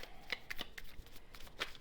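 Playing cards being shuffled by hand at a table, heard as a few quick, crisp riffling bursts close to the microphone, faint and brief, with no talking.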